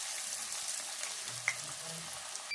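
Cabbage fritters frying in hot oil give a faint, steady sizzle with small crackles and one sharp pop, no talking over it.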